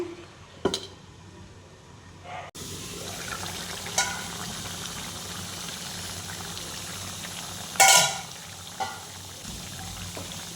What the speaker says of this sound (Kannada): ಮಸಾಲೆಯಲ್ಲೇ ಸ್ವಲ್ಪ ಹೊತ್ತು ಬೇಯಿಸ್ತಾ ಇದ್ದರೆ ಬೇಗನೆ ಚಿಕನ್ ಬೆಂದೋಗ್ಬಿಡುತ್ತೆ